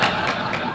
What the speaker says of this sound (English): So on the count of 3, shout boo.